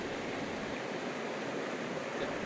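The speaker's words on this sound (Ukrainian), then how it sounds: "це і є річка Бистриця, яка ось тут за декілька кроків і знаходиться" The Bystrytsia river flows a few steps away, a dense, steady rushing wash of water noise with no breaks, loud and close, with no voices.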